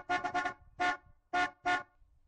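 A van horn honks in short blasts: a quick run of three beeps followed by three separate honks, loud and close.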